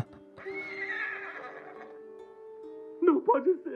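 A mare in the video game Ghost of Tsushima whinnies in a long, bright, wavering call, followed after a pause by a few shorter snorting nickers, close and clear.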